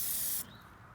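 A short burst of aerosol spray, an undercoating product sprayed on a vehicle's underbody near the fenders, a bright close hiss lasting under half a second before stopping, with no talk.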